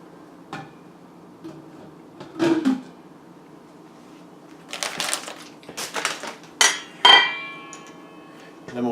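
An Alexapure Pro water filter drops into its housing, making a handful of sharp, close plastic knocks and clatters separated by quiet pauses.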